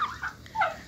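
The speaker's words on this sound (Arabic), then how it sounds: "رومي بيتعارك بيضرب الطيور الجديد" A turkey kept with other home-raised poultry gobbles in two quick, warbling bursts at close range, with a short pause between them and no talking.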